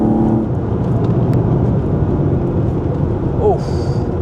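A modified BMW E36 328i with its M52 inline-six drones loudly and steadily from inside the car on a B-road, with a brief rise near the end and no talk.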